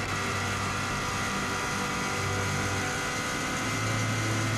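Turbocharged Subaru WRX STI time-attack car with over 550 hp, lapping the Isle of Man TT course: a loud, sustained engine roar at very high revs from onboard, held steady throughout.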